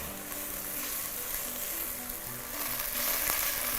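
Onions frying in a pan for patates oturtma, a steady close sizzle with a soft continuous crackle, no voices.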